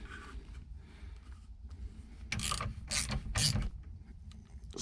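A ratchet strap is cranked tight on a semi truck seat, giving a few quiet clicks at first, then three loud, close ratcheting bursts in quick succession, with no talking.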